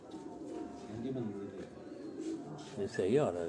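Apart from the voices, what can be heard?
pigeons cooing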